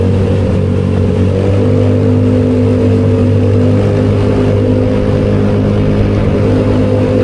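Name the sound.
motorcycle engine noise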